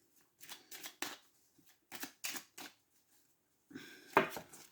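Tarot cards are shuffled by hand in quiet, soft riffling bursts separated by pauses, ending with a slightly louder flurry.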